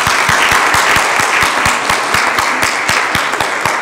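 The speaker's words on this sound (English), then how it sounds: "let us give them a round of applause and thank them for stepping up" A church congregation claps together, a dense, steady round of applause with sharp individual claps at a fairly even rhythm, loud and close throughout.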